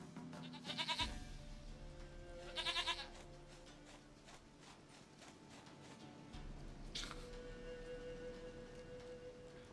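A goat bleats twice in The Witcher 3. The two quavering cries come close together near the start, followed by the game's steady background ambience.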